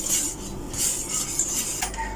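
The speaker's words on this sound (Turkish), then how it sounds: "Şimdi tenceremizi ocağımıza alacağız ve kaynatacağız." A metal pot of boiling-bound salep mixture for homemade ice cream is set onto a kitchen stove, giving a couple of close, short clanks and scrapes of cookware against the burner.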